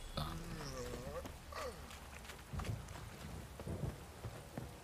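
In The Witcher 3, a downpour of rain and thunder rumbles steadily under a voice, with low thumps of thunder and footsteps scattered through.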